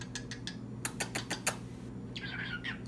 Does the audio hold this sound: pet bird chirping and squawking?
yes